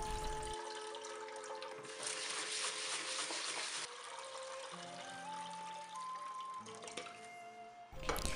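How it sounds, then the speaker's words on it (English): Glutinous rice being rinsed in water while preparing Japanese red bean rice, with a continuous close splashing and water wash that swells in the middle and steadies, alone without talk. "let's rinse the glutinous rice"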